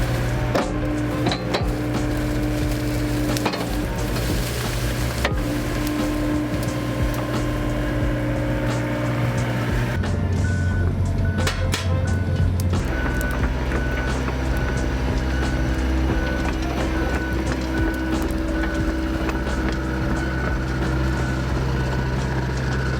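A rented excavator pushes and digs through bushes, its engine droning steadily and close throughout, with woody cracking and snapping and intermittent beeping tones over the mechanical rumble.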